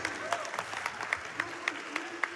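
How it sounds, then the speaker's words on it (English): Audience applause at a Games Done Quick speedrun event for Kingdom Hearts II Final Mix, a moderate crowd clapping with sharp irregular claps under ongoing background chatter and game sounds. "Anytime Donald and Goofy does anything, I'm going to clap for it."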